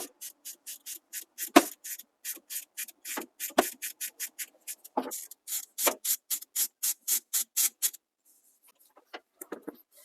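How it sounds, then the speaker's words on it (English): Fast ratcheting clicks from a wrench turning out the 11 mm bolt that holds the steering shaft to the gearbox on a Chevy/GMC squarebody truck, steady close bursts that stop abruptly near the end. "remove the 11 millimeter bolt that holds the steering shaft to the gearbox"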